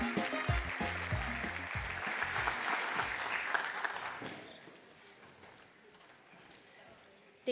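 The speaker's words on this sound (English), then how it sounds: "Let's give them another round of applause." An audience applauds a Somali dance troupe, a loud wash of clapping mixed with voices and low thuds that tapers off after about four seconds into quieter murmuring.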